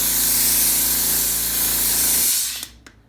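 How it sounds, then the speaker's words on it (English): A loud, steady hiss of clear water spraying from a Clorox 360 sprayer nozzle while flushing the line, running continuously before cutting off abruptly, followed by a couple of faint clicks. "Then you can just spray out that and replace it with the clear water."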